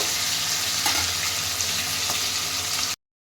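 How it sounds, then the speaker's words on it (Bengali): Rohu fish pieces frying in oil in a wok give a steady, dense sizzle that holds loud and unbroken for about three seconds, with a soft clack of a spatula against the pan partway through, then the sound stops abruptly. "এক সাইড এই যে এরকমভাবে বেটিয়ে দিচ্ছি লাল লাল করে মাছগুলোকে ভেজে নেব"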